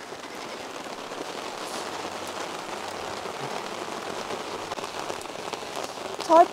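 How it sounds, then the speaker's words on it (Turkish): Heavy rain drums steadily on a caravan roof at a campsite during a severe hailstorm, a dense continuous patter heard from inside, with a short louder burst at the end. "inanılmaz ses yapıyor biliyor musun? Yağmur sesi mi?"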